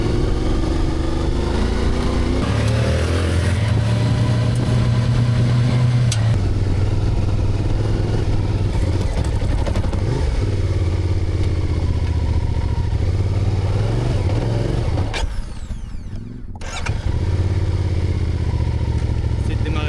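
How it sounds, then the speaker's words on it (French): Motorcycles ride through the Moroccan desert, their mid-pitched engines droning steadily and loud throughout, with rising revs and clattering, and a brief dip in the sound near the end. "Et c'est parti, on va tester les motos"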